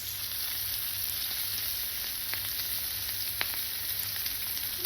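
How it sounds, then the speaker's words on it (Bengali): Hilsa fish pieces frying in a pan of hot oil give a continuous close, dense sizzle with occasional small pops and crackles, steady throughout without speech. "এখন এই মাছটা ভাজা হচ্ছে"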